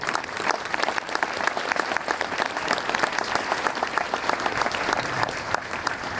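Sustained audience applause at a Veterans Day ceremony in Brentwood, a dense, steady patter of many hands clapping that holds for about six seconds without a break.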